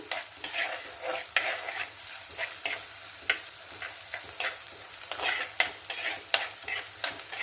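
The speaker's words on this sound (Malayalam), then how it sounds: "ലേശം മൂക്കണം മുളക് കേട്ടോ" Two dried red chillies frying in hot oil in a pan, a steady close crackle and sizzle punctuated by sharp spitting pops and the scrape of stirring, with no talking.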